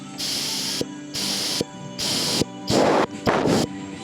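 Compressed air blasts from a blow gun in five short hissing bursts, separated by brief pauses, the last two louder and fuller.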